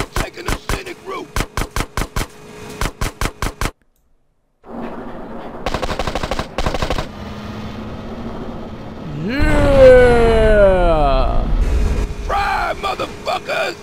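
Rapid bursts of automatic gunfire in quick rhythmic volleys, a brief silence, then more shots and a swelling, warbling rush of synthetic explosion-like noise, from the video game GTA: San Andreas.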